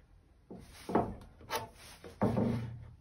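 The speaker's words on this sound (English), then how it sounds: "I just use the end of the cutting board and I just draw a line" A pencil drawn along the end of a wooden cutting board to mark a line, giving a few short, close scratchy rubbing strokes with brief pauses between them.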